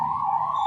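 A passing ambulance's steady siren tone holds on one pitch through a brief moment, loud and continuous with no voices.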